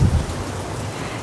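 Rain falls steadily outside an old 1924 theater in Arkansas, a brief dense wash of hiss with a low rumble at the start.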